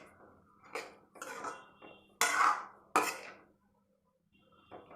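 A spoon or spatula scrapes and clanks in a pan of pointed gourd and pumpkin curry, with several sharp metallic knocks among softer stirring sounds, then a brief quiet pause.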